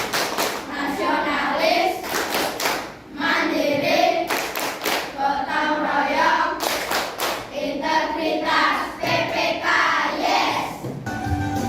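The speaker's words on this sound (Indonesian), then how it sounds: "Lalu dilanjutkan dengan tepuk PPK." Schoolchildren in a classroom perform a rhythmic clapping chant, bursts of synchronized hand claps alternating with group chanting voices, close and lively.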